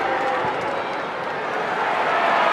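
Crowd at an AFL football match between Carlton and Fremantle in 2013 roars steadily as a big kick unfolds, a dense, unbroken wash of cheering from a large stadium audience filling the whole moment.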